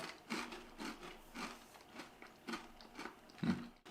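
Crisp crunching bites of bread topped with Norwegian brunost brown cheese, several distinct crunches spaced through the moment, close and fairly quiet, with no talking.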